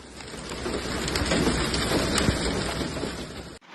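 Dense, steady pelting of hail ranging from golf ball to chicken egg size falling at high velocity in Johannesburg suburbs, a loud continuous roar of impacts with scattered sharper hits that cuts off abruptly at the end.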